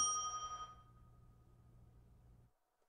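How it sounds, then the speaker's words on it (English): A single bright bell rings once at the start of a CS:GO esports match broadcast (NRG vs TSM on Mirage), marking overtime. The clear tone decays within a second, leaving a low hum and then silence. "It was the overtime bell."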